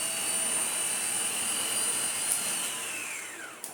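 A Vorwerk Kobold VK200 vacuum cleaner runs without its brush roll, a steady high-pitched motor whine with airy suction noise, fairly loud and close, its pitch sliding down near the end as it winds off.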